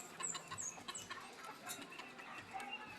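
Chickens clucking softly at feeding time on a backyard farm alongside pigeons, faint intermittent clucks and a few short higher calls over quiet rustling background.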